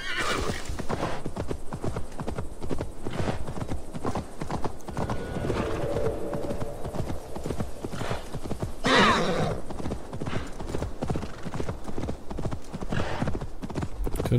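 Hooves clip-clop steadily as a horse is ridden in the PS4 video game Assassin's Creed Valhalla, with a whinny partway through, up close and continuous.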